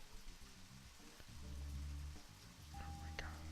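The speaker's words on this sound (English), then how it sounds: "Of course, it starts raining." Steady rainfall in the video game Deadly Premonition, a soft continuous hiss of rain with low game music and a brief tone underneath.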